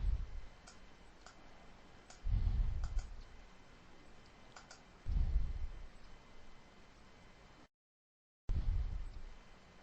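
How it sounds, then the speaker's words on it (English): A computer mouse clicks a submit button in network performance reporting software, giving several faint, sharp clicks spread across the stretch over a low background hum with a few soft thumps. "And then we click the submit button."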